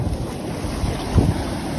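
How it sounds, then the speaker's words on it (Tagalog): Strong sea wave slaps against a small boat off La Union, a brief thud rising over steady wind noise and sloshing water, with no voices. "Ang lakas ng alon na yun ah."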